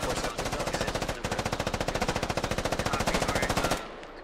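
Sustained automatic machine gun fire in the military shooter game Squad, rapid evenly spaced loud bursts running nearly four seconds with a brief break, then stopping into quieter background.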